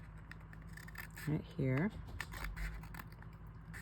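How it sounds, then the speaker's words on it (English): Scissors snip through Dollar Tree notecard stock in two short quick cuts near the middle, close and crisp, with a person speaking briefly around them. "So I'm going to cut this part off"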